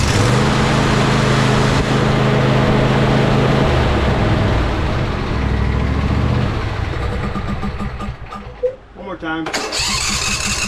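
An Ariens lawn tractor engine, just repaired with spacers added between the starter gear and the flywheel, cranks and turns over loudly for several seconds under a voice, then cuts out before a brief restart near the end.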